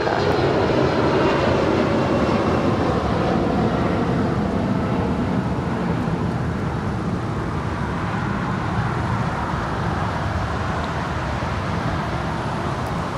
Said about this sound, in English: Taking off there on 25 right was United Airlines Flight 1029 heading to Denver, Colorado.